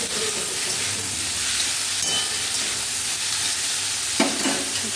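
Gourd and lentil fritter curry seasoned with salt and turmeric is stirred in a pan, giving a continuous sizzling hiss with scraping stirs and a sharper clack near the end, alone without speech.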